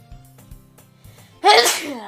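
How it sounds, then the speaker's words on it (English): A single sharp, loud sneeze bursts out close up from a person after a few soft thumps and quiet background sounds. "I just sneeze randomly"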